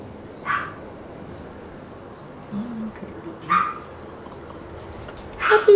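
A puppy gives a few short, high barks spaced a few seconds apart, the last ones quicker and louder, over a quiet background.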